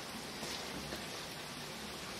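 Steady rain falling outdoors, a dense, even hiss that fills the whole moment at a constant moderate level, with no voices.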